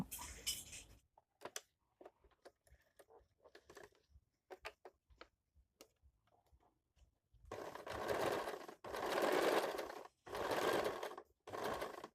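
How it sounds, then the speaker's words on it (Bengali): A sewing machine stitches a designer blouse, running in several loud, close bursts of rapid whirring after a stretch of scattered soft clicks and handling noises. "এরপর সব দিকে ঘুরিয়ে সেলাই করে নেব"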